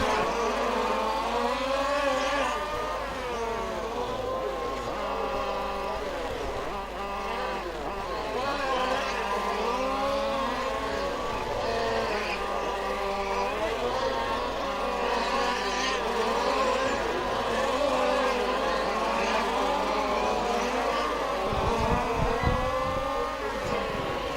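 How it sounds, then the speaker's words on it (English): Several radio-controlled formula-class race cars race around a club track in Groningen, their high electric whines rising and falling in overlapping sweeps as they pass. The sound is loud and continuous for the whole stretch. "But all the other cars are racing for position."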